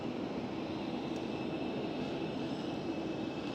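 Transavia Airbus A321neo at Amsterdam Schiphol airport, a steady broadband jet engine roar holding constant throughout, moderately distant, with no voices.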